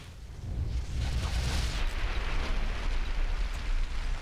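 Gunfire in the video game Fallout: New Vegas, a dense rumbling blast that fills the stretch continuously, loud and alone.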